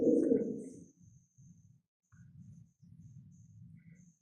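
Pigeons cooing softly nearby in a low repeated rhythm of short murmuring pulses, after a brief louder rustle at the start, with no talk.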